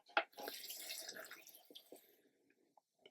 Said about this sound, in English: So we're going to add some water down into this corner.